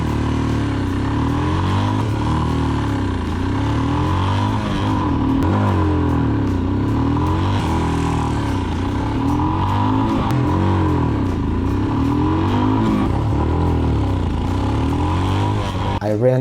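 A Royal Enfield Himalayan motorcycle with a PoweRage exhaust revs hard through one gear after another, each loud, close engine climb rising in pitch before dropping back, repeated steadily throughout.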